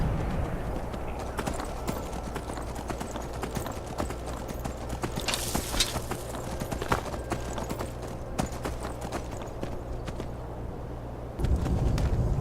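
Steady clip-clop of horse hooves at a walking pace in the video game Skyrim, fairly close and continuous, with faint background ambience and no talking.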